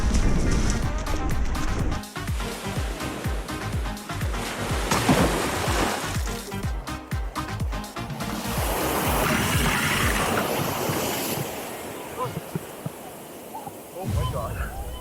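Surf rolls in at Cox Bay beach in Tofino as a broad, loud, close wash of breaking waves that swells and recedes, blended with a musical backing.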